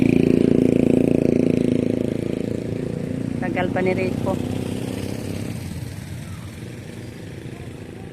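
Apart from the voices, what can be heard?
motorcycle engine idling while waiting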